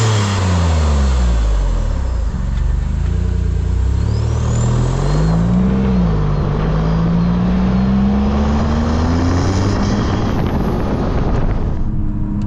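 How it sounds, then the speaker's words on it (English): A 2026 Maserati MCPura's engine drones loudly and steadily under heavy wind noise, its pitch climbing and dipping with a brief throttle blip on a downshift before revving up again. "Blipping of the throttle on the downshifts"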